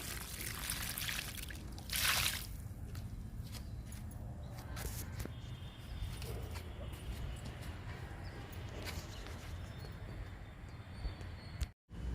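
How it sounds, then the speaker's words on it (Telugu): Water poured onto a potted hibiscus plant in a flower garden, a soft continuous trickle and splash that stays faint under outdoor background noise. "మందారానికి వాటర్ ఇస్తున్నా."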